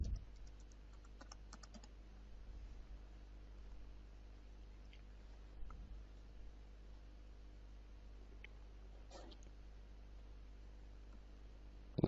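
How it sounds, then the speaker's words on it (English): Password being typed on a computer keyboard at a login page, faint scattered key clicks over a steady low hum, no talking. "Add the password for Mike."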